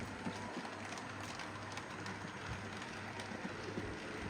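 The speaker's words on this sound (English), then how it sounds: "coming along there with that permanent way train" A model permanent way train runs along a small model railway, giving a steady, low rumbling hum with a faint rattle that keeps up the whole time, fairly quiet and with no voices over it.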